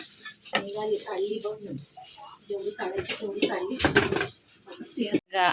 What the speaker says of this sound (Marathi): या दोघी भांडी घासायला लागल्यात